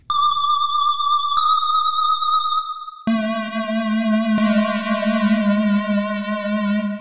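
Synthesized Super Mario Paint soundfont notes from an edited pack play loud and alone: a sustained bright tone, a shift to a slightly higher note, then a buzzy, richer lower note that holds steady to the end.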